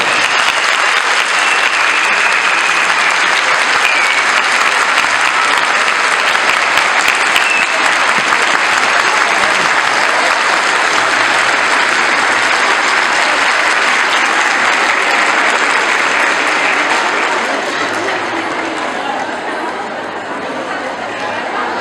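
An audience at a municipal Women's Day matinee in Burdur claps in loud, sustained applause filling a hall, with a faint murmur of chatter, slowly tapering off near the end.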